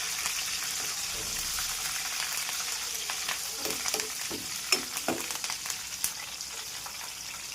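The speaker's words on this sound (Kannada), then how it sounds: "ಕರಿಬೇವಿನ ಸೊಪ್ಪು ಮೀಡಿಯಂ ಫ್ಲೇಮಲ್ಲಿ ಇಟ್ಕೋಬೇಕು" Curry leaves sizzle in hot oil over a medium flame for lemon rice, a steady bright frying hiss with small scattered pops and crackles throughout, close and alone without talk.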